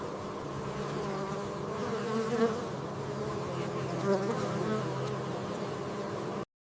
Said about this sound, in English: No bee works alone.